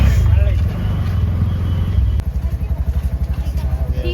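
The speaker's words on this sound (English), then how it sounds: "now we are stuck in traffic" Road traffic near Vithala temple in Hampi, a nearby engine idling and revving with a pulsing throb, voices talking over it.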